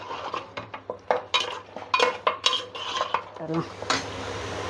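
A metal utensil repeatedly scrapes and clanks against a pan while mixing mutton bone pieces for a nalli gravy, rhythmic close knocks and scrapes over a faint low hum.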